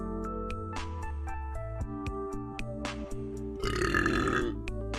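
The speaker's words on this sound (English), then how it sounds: "refrain from burping into the mic" A burp close to a microphone during a football podcast, one loud drawn-out belch over steady background music with tonal bands, rising to a rough peak near the end.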